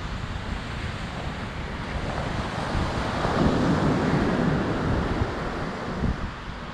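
Waves roll in at Praia do Buraco beach in Balneário Camboriú, making a steady broadband rush that swells in the middle, with heavy wind buffeting the microphone throughout.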